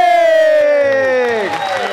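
Crowd cheering and clapping erupt to greet a guest as she comes on stage at a talk show taping, a loud continuous swell of applause with shouts rising over a fading musical sting.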